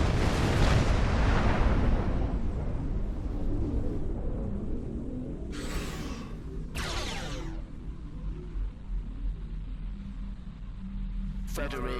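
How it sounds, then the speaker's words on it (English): Phaser fire in the Star Trek Online video game: a loud, sustained roaring blast at the start that decays into a rumbling background, with a few short bright bursts later on. "Fire all phasers."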